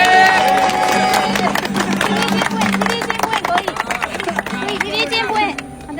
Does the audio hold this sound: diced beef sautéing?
no